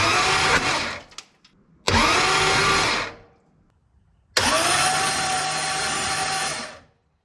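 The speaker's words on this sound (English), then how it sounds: "I pretty much just popped all the spark plugs out, hit the starter, and just pushed all the fuel out" A car engine with its spark plugs removed spins over on the starter in three loud, even whirring bursts, each running a second or more, with short quiet gaps between them and the last burst the longest.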